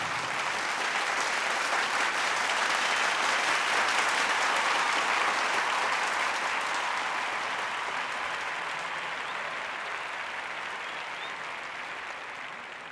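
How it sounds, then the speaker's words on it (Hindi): Sustained applause from a large audience fills the hall, loud and steady before slowly fading toward the end. "करीब 2 मिनट तक लगातार तालियां बजती रही।"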